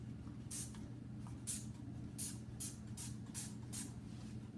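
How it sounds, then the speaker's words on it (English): Quiet hissing bursts from a can of oven cleaner sprayed between oven glass panes, about seven short sprays in an uneven rhythm over a low steady hum. "So we're just gonna spray some of this on all over the place."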